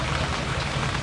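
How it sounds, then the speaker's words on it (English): Steady rain pours down at Daytona Bike Week, a dense, even hiss of drops on surfaces with no voices. "Man, rain."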